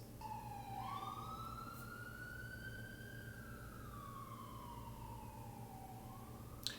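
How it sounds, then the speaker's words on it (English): A distant siren wails in one long slow rise and fall over a low background rumble in Baltimore, faint and far away. "sirens are going"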